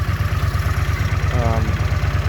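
A CX motorcycle, set up as a carburetor test bike and slightly warm, idles nearby at about 1100 rpm with a steady, lumpy low thumping rhythm, and a voice is heard briefly over it.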